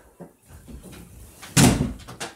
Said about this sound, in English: Slam! As the door shuts.